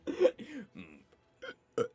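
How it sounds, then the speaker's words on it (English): A single short burp from a man during a live dub session, close and fairly quiet, with brief vocal noises around it. "I had to burp."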